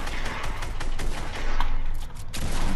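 Dense, loud shotgun gunfire in GTA 5 rapid blasts crowding into a continuous roar of combat noise, with no voices over it.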